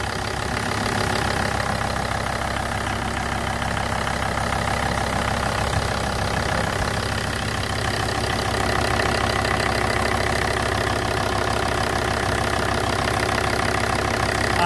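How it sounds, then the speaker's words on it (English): A Volvo XC90 D5 AWD diesel engine idles steadily in limp mode with a stuck swirl flap actuator, a continuous close, even mechanical hum with a faint knocking texture throughout and no voices. "the engine is idling"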